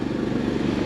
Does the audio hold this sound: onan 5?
yes